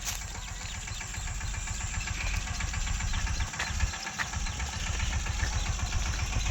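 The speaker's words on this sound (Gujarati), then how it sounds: "આજ ટ્રેક્ટર લઈને કપામાં હાલે છે ટ્રેક્ટર." A tractor engine runs steadily in a cotton field, a loud, close, continuous chugging rumble with a rhythmic low pulse and no speech.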